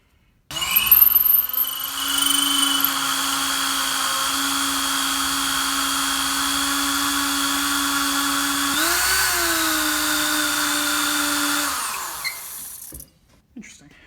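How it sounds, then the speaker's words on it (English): A power drill whines steadily for about ten seconds while drilling into wood, its pitch dipping briefly as it bites in, then winding down to a stop. "I actually started drilling into it with this wood"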